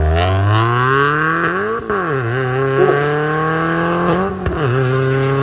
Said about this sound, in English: that sounds like it's got some sort of flat foot shifting tune on it